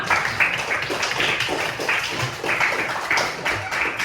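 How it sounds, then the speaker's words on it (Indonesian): Classroom of students clapping together for their classmates, a steady, fairly loud patter of many hands with a few voices mixed in. "Oke, tepuk tangan dulu untuk kalian semua."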